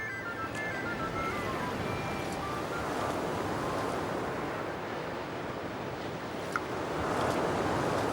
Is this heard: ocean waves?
yes